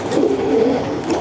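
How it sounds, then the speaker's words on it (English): Pigeons cooing close by inside a loft, low soft throaty calls overlapping in a continuous murmur. "Some beautiful pigeons in here."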